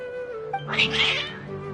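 Cats in the Genshin Impact video game meow in a short, strained, agitated burst, close and moderately loud over a quiet background.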